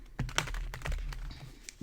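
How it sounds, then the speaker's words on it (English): Quick papery riffling and soft slaps of tarot cards being shuffled, several crisp bursts in a row, close up with no talking. "going to shuffle the tarot"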